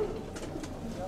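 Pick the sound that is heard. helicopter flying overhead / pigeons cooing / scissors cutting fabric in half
pigeons cooing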